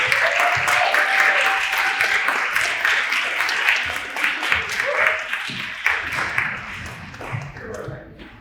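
An audience applauds the students with dense, lively clapping that holds strong, then thins and fades toward the end while voices murmur beneath.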